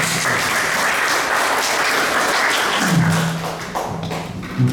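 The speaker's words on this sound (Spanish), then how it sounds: "le recibimos con fuertes aplausos." An audience gives a book presentation at a Lima institute a loud, dense round of clapping that sounds close, steady and alone, easing slightly near the end.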